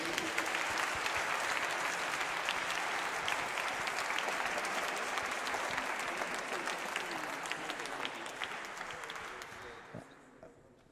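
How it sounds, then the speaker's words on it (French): An audience in a music academy applauds a Spanish boys' choir, a dense sustained wash of clapping that stays strong for about ten seconds, then fades and stops. "Allez, on les applaudit bien fort pour les encourager."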